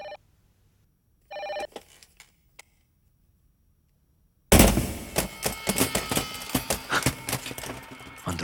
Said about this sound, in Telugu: ఢిల్లీ నుంచి ఫోన్.